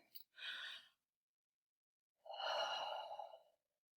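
Two deep breaths during a fitness workout, each a soft, airy exhale of about a second, separated by a short pause and heard close with no talk over them.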